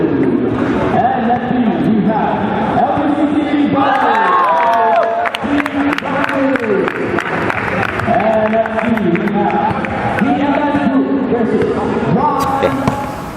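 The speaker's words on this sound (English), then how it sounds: "the crowd all make noise at you when you're standing on the free throw line" A basketball crowd roars at a player standing on the free-throw line, a dense, loud and sustained wall of shouting, whooping and jeering voices that continues throughout with no letup.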